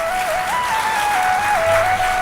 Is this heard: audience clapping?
yes